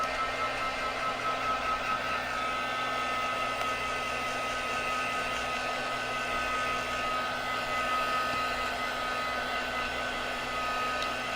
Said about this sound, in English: I'm gonna dry this.